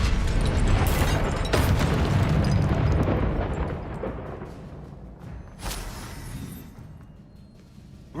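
A Confringo blasting curse from Hogwarts Legacy goes off as a loud booming eruption, with sharp bursts near the start and another around the middle, then a rumbling roar that slowly fades.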